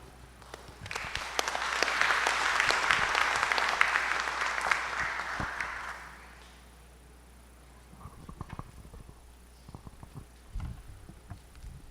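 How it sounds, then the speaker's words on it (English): A symposium audience applauds after a presentation, a dense burst of clapping that swells for about six seconds and then fades, leaving sparse scattered claps and small room noises. "Please, another round of applause for Mr."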